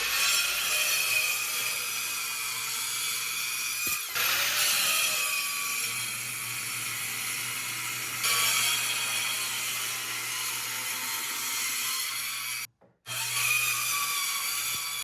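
Track saw cutting wood for a bevel, a steady loud whine and rasp running almost continuously, with a couple of brief changes in pitch and one short stop near the end.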